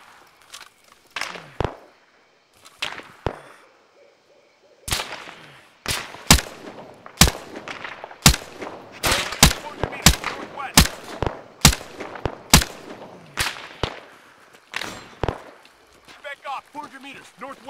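Gunfire in the military video game ArmA 3, special forces fighting ISIS: sharp single rifle shots and short bursts spaced irregularly, loud and crisp with echoing tails, and radio voices talk between them.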